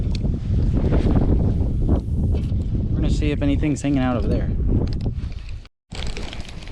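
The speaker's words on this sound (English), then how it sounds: "it is heck windy right now" Strong wind buffets the microphone with a loud, steady roar near the visitor center at Lost Creek Lake, Oregon, as a person talks over it, broken by a brief dropout near the end.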